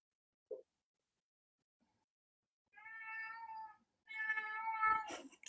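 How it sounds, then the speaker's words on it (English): A domestic cat meows in two drawn-out, clearly pitched calls, the second longer and louder, in a quiet indoor room. A faint brief tap comes before them. "Sorry about my cat."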